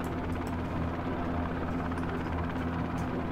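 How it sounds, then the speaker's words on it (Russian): Helicopters fly away at dawn in the Roblox game SharkBite 2, giving a continuous, loud rotor drone and hum that stays steady throughout. "Вот, вертолеты улетают."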